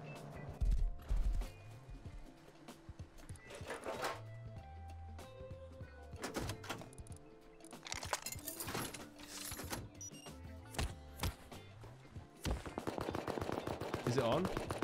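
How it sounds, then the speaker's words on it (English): Auto turret firing in the video game Rust, bursts of rapid gunfire mixed with mechanical clicks and whirring, moderately loud against quieter game ambience. "It's on. We have an auto turret."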